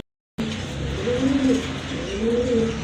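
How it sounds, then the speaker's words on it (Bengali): A pair of pigeons with eggs and chicks coo up close after a moment of silence, soft rolling throaty calls repeating over a low background hum. "এখন কিন্তু দেখতে পাচ্ছেন এক জোড়া কবুতর সুন্দরী কবুতর"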